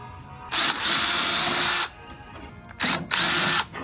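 A power drill drives self-tapping galvanized sheet metal screws with rubber washers while fitting brackets during 1970-72 Chevelle dash removal, two close, loud whirring bursts of about one and a half seconds and under a second separated by a short pause.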